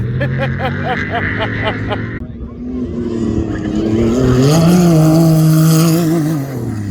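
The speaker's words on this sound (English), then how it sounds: "there's a racing buggy getting serviced right next to us" A racing buggy revs and idles while being serviced at a desert race camp, a loud close engine with rising and falling pitch and mechanical rattle, with people talking nearby.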